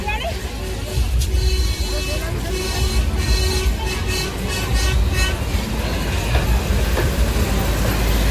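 A small amusement train circling Kankaria lake at the Kankaria Carnival rumbles along steadily with clattering and a rising hum, while a crowd chatters and voices talk nearby.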